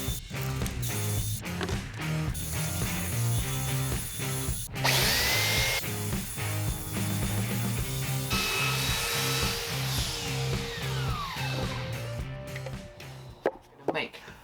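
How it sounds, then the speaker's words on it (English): A spinning sanding disc on a power drill works across plywood, a continuous grinding whir with scraping texture that shifts in pitch and pressure, ending in a few sharp knocks. "I've got the spinning disc on my drill."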